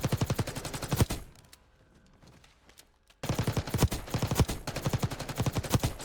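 Rapid automatic gunfire from a shooter video game played with an Xbox controller: dense bursts of shots, a brief lull with a faint tail, then another sustained volley, loud and close.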